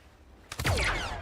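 A single overwatch gunshot in XCOM bursts in abruptly, loud and close, followed by a ringing, whistling tail that lingers under a quiet game background.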